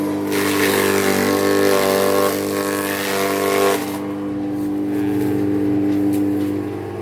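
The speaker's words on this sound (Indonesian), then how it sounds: "Untuk mesin dinamonya hasilnya tuh guys" The electric dynamo motor of a livestock feed chopper machine runs with a loud, steady hum and whine, then the tone drops and it keeps running more quietly, close up with no talk.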